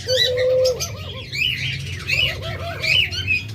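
Caged pet birds at a seller's stall, lovebirds, budgerigars, Java sparrows and cockatiels, chirp and coo in quick overlapping bursts close by, with no talking.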